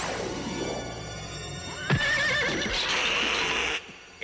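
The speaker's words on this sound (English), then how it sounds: "Don't bring the horse in the house!" A horse whinnies loudly and close by in an animated Ghostbusters episode, a long shrill neigh with snorting breaths, standing out over a busy background.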